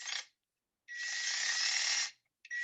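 A drill bores slowly through a green bonsai branch for thread grafting, giving a steady bright whirring grind that runs for about a second between short bursts and gaps.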